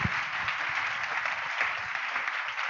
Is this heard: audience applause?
yes